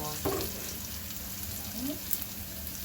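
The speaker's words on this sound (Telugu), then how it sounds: "కొంచెం ఆయిల్ తీసుకొని తాలింపు వేసేసుకొని కరివేపాకు, ఎల్లిపాయలు, జీర అన్నీ వేసేసి మంచిగా ఫ్రై అయ్యాక" Curry leaves, garlic and cumin frying in hot oil for a South Indian tomato rasam tempering give a steady, soft sizzle that runs throughout, with a brief sharper crackle near the start.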